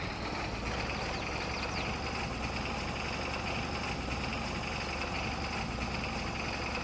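A tractor engine in Farming Simulator 22 on the way to an oat field, a constant steady drone and rumble that holds at the same level throughout.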